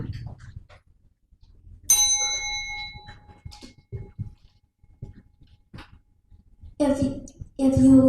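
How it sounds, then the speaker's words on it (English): A bell rings once, bright and ringing out for about a second, in a student debate competition room, between stretches of quiet murmuring and talk. "You ring the bell."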